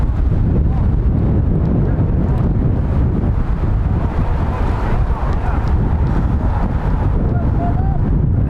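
Steady wind buffets the microphone at an outdoor MLS Next U17 soccer match, a constant loud low rumble that persists through the whole stretch with some crowd or voices faintly underneath.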